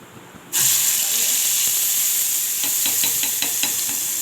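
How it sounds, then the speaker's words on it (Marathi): Cumin seeds hit hot oil with a sudden loud hiss that settles into a steady sizzle, with faint crackles and pops toward the end. "जिरे छान तडतड द्यायचं मस्त"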